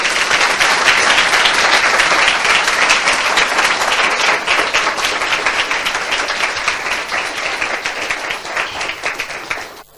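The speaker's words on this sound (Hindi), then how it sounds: "मैं चाहता हूं इस वचन के लिए हम जोरदार ताली बजाएं।" Loud, sustained applause from a church congregation during a Hindi sermon, dense crowd clapping throughout that thins slightly and cuts off abruptly at the end, with no speech over it.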